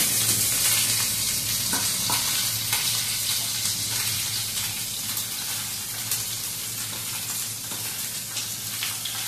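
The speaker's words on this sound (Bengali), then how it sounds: "উল্টো পাল্টে ভেজে নিতে হবে ভালো করে।" Paneer pieces frying in an oily pan make a loud, continuous hissing sizzle, and occasional scrapes and soft knocks come as the pieces are turned over, heard close with no talking.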